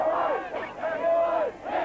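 A crowd of dock-dispute picketers in 1998 Australia yells and roars in rising, overlapping shouts as police move in, loud and close in a short burst.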